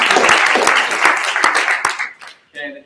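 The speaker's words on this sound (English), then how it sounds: "So let's give them a huge round of applause." A burst of crowd applause and clapping, loud and dense, fading out after about two seconds as a voice begins.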